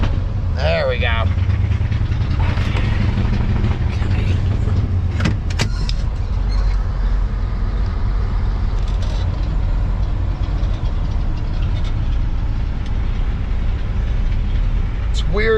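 A vehicle engine idles high with a steady low rumble close by, while a person talks over it and a few brief clicks and knocks break in near the start.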